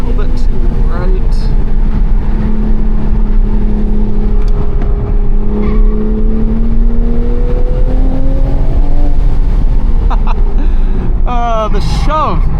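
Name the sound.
Toyota GR Supra accelerating during performance driving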